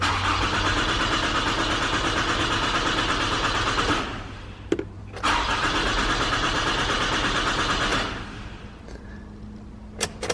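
Starter on a 2012-2017 Toyota Camry XV50 with a failing crankshaft sensor cranks steadily in two long bursts of about four seconds each, loud and close, the engine never catching, with brief clicks between and after.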